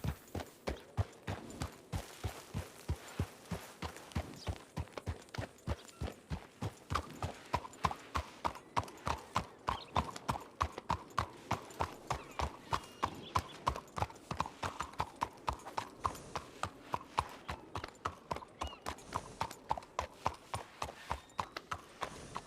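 Steady clip-clop of horse hooves in a video game, a brisk even rhythm of sharp close strikes lasting throughout, with no talk over it.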